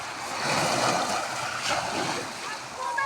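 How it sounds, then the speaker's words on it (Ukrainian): Sea waves wash onto a pebbly shore in a steady, rushing surge with some wind, and voices speak now and then over the surf. "Вот мы на море пришли."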